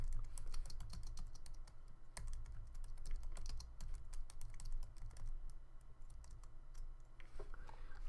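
Rapid typing on a computer keyboard, close and fairly quiet, with quick uneven bursts of key clicks and brief pauses between words.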